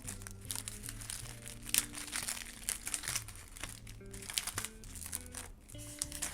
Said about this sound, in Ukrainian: Він дуже-дуже класно шарудить.